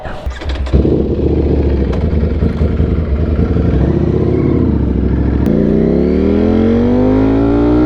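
A hot Italian motorcycle engine idles with an uneven, lumpy chug, preceded by a few sharp clicks at the start and followed by a rising mechanical whine toward the end.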